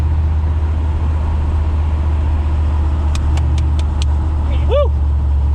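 An LS-swapped Chevrolet S10 pickup truck drives with a loud, steady low engine drone, a few quick clicks and a short voice near the end.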